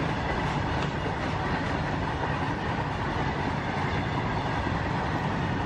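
A high-speed double-decker freight train in India rushes past in a steady, loud roar of rolling wheels and clattering wagons that holds unbroken throughout, with no voices.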